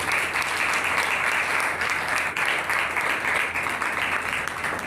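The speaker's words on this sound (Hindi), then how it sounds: "ये बात तालियां बजाने वाली है।" Steady, loud applause from a gathered audience at an ordination ceremony in Akhtar Colony, Karachi, a thick unbroken wash of clapping.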